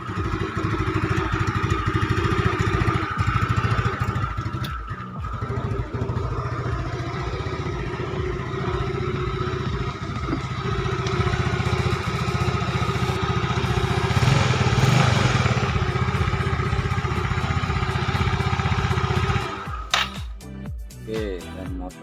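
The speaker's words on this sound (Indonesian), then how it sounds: "Motor dihidupkan normal ya." A Yamaha automatic scooter with a badly seeping block and head runs at a steady, close idle, its even mechanical hum continuing for about twenty seconds before a few throttle blips and a rough shift near the end.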